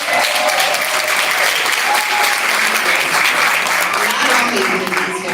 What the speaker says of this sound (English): can we just give a big round of applause?